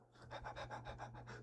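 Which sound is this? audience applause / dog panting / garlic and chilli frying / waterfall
dog panting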